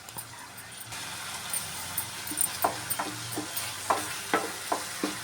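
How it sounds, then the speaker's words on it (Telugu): Ginger, garlic and green chili paste sizzles in a pan while a spoon stirs it, giving a steady fry hiss broken by a series of sharp scraping clicks roughly every half second; no talking. "చూడండి ఫ్రై అవుతుంది కదా"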